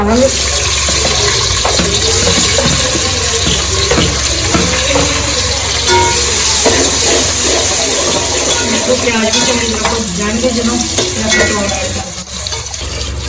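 Rice for a ghee pilaf is rinsed under a loud running tap, the grains swished and stirred in the water, with someone talking nearby.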